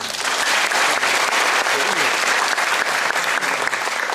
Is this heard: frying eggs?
no